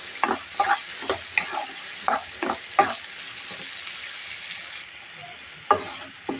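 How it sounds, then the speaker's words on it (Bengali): A spoon stirs banana flower curry with potatoes in a sizzling pan, making rhythmic close scraping strokes about twice a second over a steady frying hiss, then pausing before one more stroke. "এখন একটু সুন্দর করে নাড়াটা দিয়ে দেবো"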